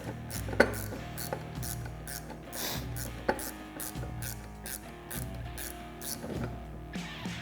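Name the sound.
ratchet tightening bolts on Polaris RZR clutch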